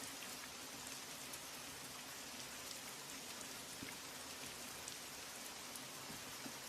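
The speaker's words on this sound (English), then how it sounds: "But hey, rain is nice." Steady rain falling and pattering on surfaces, an even, continuous hiss of drops heard faintly with no voices.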